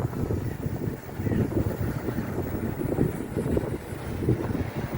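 Wind buffeting a microphone outdoors while a JJRC X25 GPS camera drone flies; steady, loud low rumbling gusts continue through the whole stretch.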